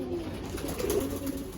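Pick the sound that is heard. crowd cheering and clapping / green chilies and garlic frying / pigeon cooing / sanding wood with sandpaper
pigeon cooing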